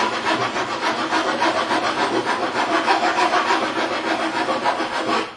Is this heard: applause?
no